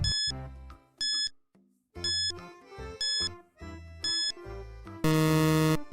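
A quiz countdown timer for a school English lesson plays a series of bright, beeping electronic chime bursts in a repeating rhythm, loud and close, ending in a sustained buzzing alarm tone.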